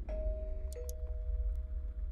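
In the video game Welcome To Kowloon, a doorbell rings as two clear electronic chime tones in a ding-dong pattern, the second tone sustaining, with faint clicks over a low rumbling background.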